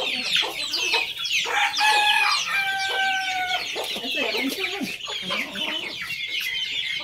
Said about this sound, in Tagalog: ito yung kabibili nating mga manok, mga kababayan